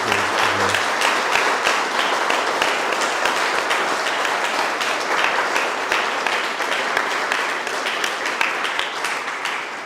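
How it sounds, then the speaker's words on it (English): Sustained applause from an audience at a Victory Day commemoration speech, steady and dense crackle of many hands clapping for the full stretch, with no voices on top. "So please give him a round of applause."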